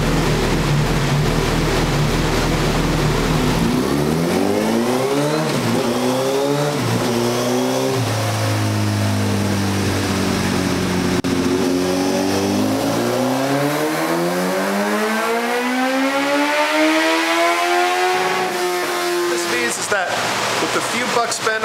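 A second-generation Suzuki Hayabusa with a Brocks Performance full exhaust system makes a dyno run, revving loudly through its gears as the pitch sweeps up, drops and climbs again to a high scream before backing off.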